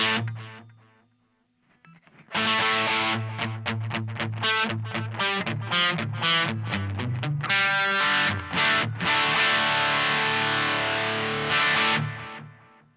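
Electric guitar played through a Mad Professor BlueBird overdrive pedal with delay, gain set high: a brief quiet lead-in, then a loud, continuous run of distorted picked notes and chords with echo trailing behind, no voices.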